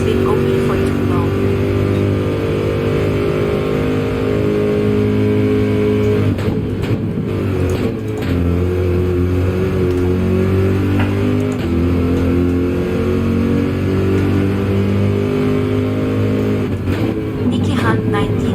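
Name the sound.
car engine revving in Gran Turismo 7 video game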